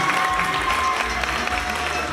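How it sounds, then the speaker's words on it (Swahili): Applause from an audience greeting the guest of honour at the launch of a Methodist choir, a dense, steady patter of clapping that fills the room throughout. "Jamani, tumpigie makofi mengi."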